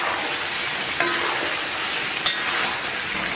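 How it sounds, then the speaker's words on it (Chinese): Pig trotters being stir-fried with dark soy sauce in a hot wok, a steady loud sizzle with scraping stirs throughout and a couple of sharper clinks. "再次煸炒一下，"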